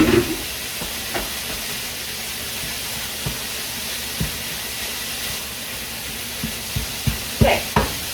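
Sausage sizzles in a frying pan with a steady hiss, broken by a few soft clanks and stirring knocks, close and without talk.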